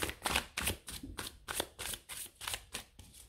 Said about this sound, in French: Je vais tout de suite aller remettre des cartes pour avoir plus de précision avec le tirage.